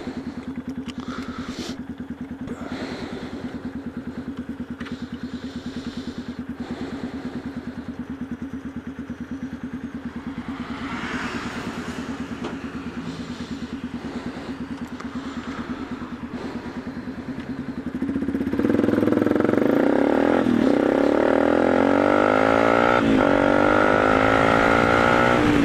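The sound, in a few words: motorcycle engine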